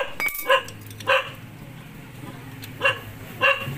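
A dog barks four or five short, sharp times at irregular intervals, fairly close, over a steady low background hum.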